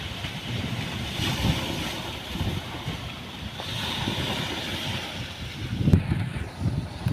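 Sea waves wash around a small boat in choppy water, blending with steady wind buffeting the microphone. The low, continuous surging rises and falls without any voices.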